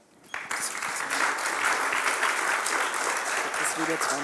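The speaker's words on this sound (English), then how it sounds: "and this is your applause." Sustained audience applause for a presenting team taking the stage at a pitch event, broadband clapping that starts abruptly after a brief quiet moment and holds steady and loud throughout.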